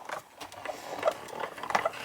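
A 3D embossing folder is cranked through a manual die-cutting machine between plates 1 and 4, giving a short burst of uneven mechanical clicking and whirring.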